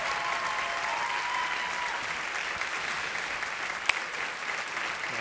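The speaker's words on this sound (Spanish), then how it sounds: "Venga, ese aplauso" Audience applause on The Voice Chile during a battle round, a steady, fairly soft wash of clapping from a large crowd with one sharp transient near the end.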